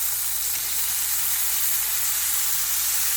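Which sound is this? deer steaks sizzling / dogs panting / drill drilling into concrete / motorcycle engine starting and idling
deer steaks sizzling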